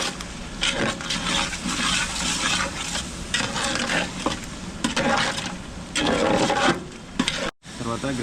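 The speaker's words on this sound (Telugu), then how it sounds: "తర్వాత అయితే మనం పుదీనా వేసుకున్నాక కలుపుకోవాలి." A pan of curry with mint stirred steadily over heat, with scraping and sizzling that keeps going near and loud for several seconds before stopping abruptly.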